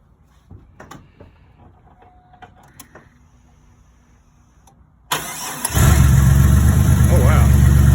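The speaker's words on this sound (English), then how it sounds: "What do you say we fire it up and listen to it just for a second?" A turbocharged 4.3-liter GMC Syclone truck engine cranks and fires about five seconds in, catching into a loud, steady run after quiet shuffling and faint background sounds.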